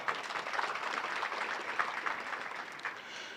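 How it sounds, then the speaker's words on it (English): Crowd at a university graduation ceremony claps for a new industrial skills and enterprise development center, a moderate continuous patter of applause with a few sharper individual claps. "And I thought we could give a clap."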